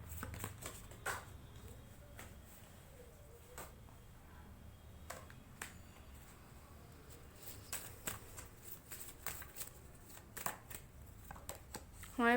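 Tarot cards shuffled quietly near at hand, giving soft, irregular riffling and flicking taps while a voice talks faintly throughout.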